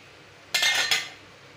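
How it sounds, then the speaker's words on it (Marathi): A metal lid set down onto a cooking pot of besan (gram flour) mixture gives a short burst of clinking, rattling metal that lasts about half a second, with a second small knock at the end. It sounds close and stands alone, with no talk. "आता आपण यावर झाकण ठेवून 5-10 मिनिटे चांगले शिजू देऊया"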